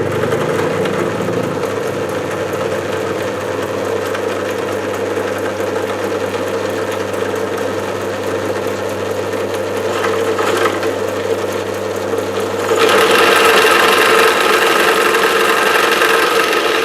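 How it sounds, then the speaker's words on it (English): A power drill whirs steadily at close range, boring a hole into wood, with the motor pitch rising and growing louder toward the end. "Just going to drill the back of the hole."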